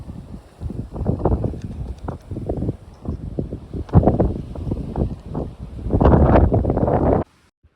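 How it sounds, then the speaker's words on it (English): Strong gusty wind on the Appalachian Trail buffets the microphone in loud rushing surges that rise and fall, then cut off abruptly at the end. "It's really windy."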